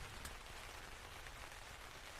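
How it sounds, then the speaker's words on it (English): Soft rain patters steadily across a surface, a dense, even hiss of drops with no other sounds over it. "listen to the soft patter of rain"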